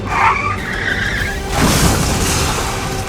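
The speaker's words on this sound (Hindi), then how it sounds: "इसी दौरान सामने से आ रही वैन से उनकी भिड़ंत हो गई" A van runs into a motorbike carrying a rider and two children on a road, caught on CCTV. There is a sharp, close tire skid with a squeal, then a broad, rough crash-like burst that continues as scraping noise until the end.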